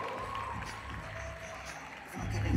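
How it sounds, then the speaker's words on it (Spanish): Crowd applause at a cosplay contest during Japan Week-End Madrid, a steady patter of clapping throughout with a swell of louder cheering near the end. "Venga, aplaudimos fuerte a Ayrton y Bitco."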